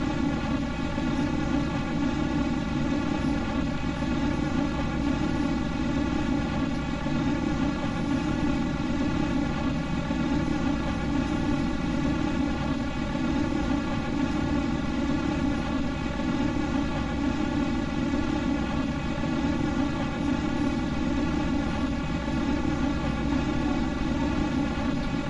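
Steady, loud engine roar from a spaceplane's jet engines in a flight-testing video game, a constant droning thrust with layered tonal hum that holds unchanged throughout, with no talking.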